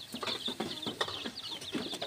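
A mother hen with five chicks clucks softly and repeatedly in a farmyard, with high peeping from the chicks layered over the low, rhythmic clucks, all fairly faint.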